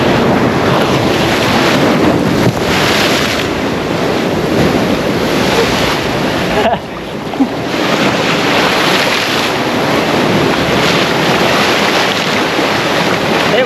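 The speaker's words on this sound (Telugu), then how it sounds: "వాటర్ చూపిద్దామంటే అలా దగ్గర నుంచి వాటర్ కొట్టేస్తున్నాయి బాగా." Sea waves break and splash close to the camera, a loud continuous roar of surf and spray with heavy wind buffeting the microphone and no talking.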